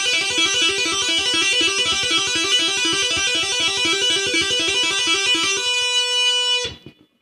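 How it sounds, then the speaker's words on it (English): Heavy metal electric guitar repeating a fast legato hammer-on and tapping phrase in a steady, even rhythm, loud and close, played alone before the final note rings and is cut off abruptly. "Now if you repeat that, you get a very legato type of phrase."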